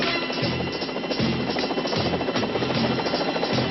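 A helicopter flies near the north end of Anacapa Island during a coast guard operation. Its rotor drone is loud, close and steady, with a faint rhythmic chop running through the whole stretch.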